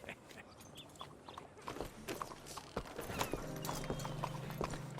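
Horse hooves clip-clop at a walking pace in the game Red Dead Redemption 2, irregular close thuds over outdoor ambience, with a low sustained tone entering in the second half.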